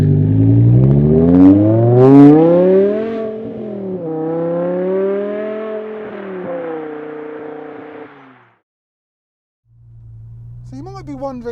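A BMW E60 M5 with its V10 engine pulls away, the engine note climbing in pitch through a long rising sweep, easing, then building again before a brief pause and a fresh low idle, heard from inside the car.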